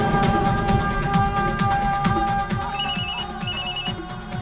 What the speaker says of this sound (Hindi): मॉम का फोन है।